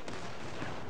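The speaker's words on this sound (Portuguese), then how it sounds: "Dois torpedos pegou no navio do cara, mano." Two torpedoes strike an enemy ship in the naval battle game World of Warships, a short, dense boom with a rumbling blast that fills the whole second, heard alone.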